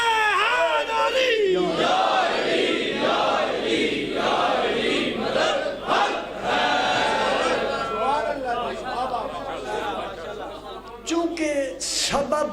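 A large seated religious gathering answering a preacher with loud rhythmic call-and-response slogans, many voices roaring together in waves close and full, a lone voice leading between them.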